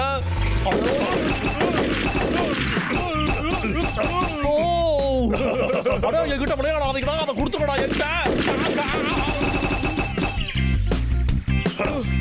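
Cartoon gunfire from Boonie Bears crackles in rapid bursts amid music and sound effects, while animated voices shout over it.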